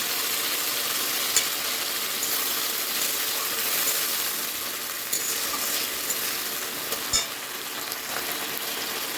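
Ginger, garlic and ground spices fry in oil for khichuri, a steady close hiss and sizzle with a few faint clicks of a spoon against the pan.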